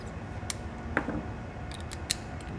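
Torque wrench being adjusted to 25 foot-pounds, a few faint sharp metallic clicks and ratcheting ticks over quiet background, close and sparse.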